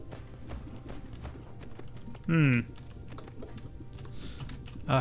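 Typing on a wireless computer keyboard, with light, irregular key clicks scattered through a quiet room, interrupted once by a short, bright chirping sound.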